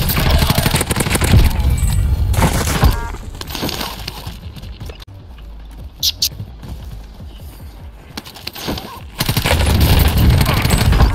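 Rapid bursts of automatic gunfire in the video game Plunder, loud clusters of shots separated by a quieter stretch with scattered pops, under a player's voice.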